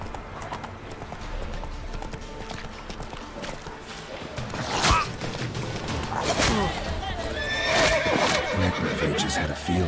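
Roach, Geralt's horse in the game Witcher 3, runs with rhythmic clip-clopping hooves, a loud whinny partway through, and thumps and whooshes, while a voice speaks over the galloping.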